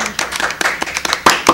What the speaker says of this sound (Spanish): Vamos a brindarles un fuerte aplauso